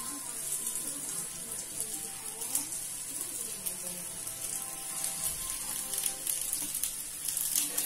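Spinach-filled briouats fry in hot oil, giving a soft, even hiss of bubbling sizzle that runs steadily throughout, fairly quiet and close, with no distinct pops standing out.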